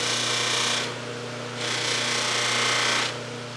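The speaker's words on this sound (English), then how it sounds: "I've never really tried buffing anything without a compound on there." Buffing wheel running against an epoxy knife handle with no compound, a loud continuous machine hum with a steady whine that rises in two bursts of harsher rubbing as the handle is pressed on.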